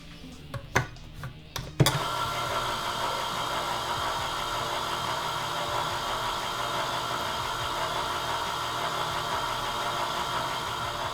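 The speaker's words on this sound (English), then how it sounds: "drain them and run them through a blender" A few sharp clicks, then a blender whirs steadily at one speed blending drained peeled tomatoes, a continuous motor drone filling the rest of the clip.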